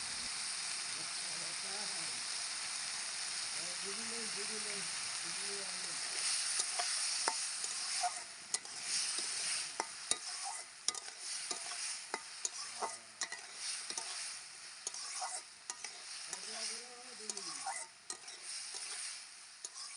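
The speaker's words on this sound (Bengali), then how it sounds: "সবজিগুলো আমার একদম ভাজা ভাজা হয়ে গেছে" Vegetables with turmeric frying and being stirred in a pan for a diet dish, a steady sizzle with intermittent scraping and stirring clatters, close and continuous throughout.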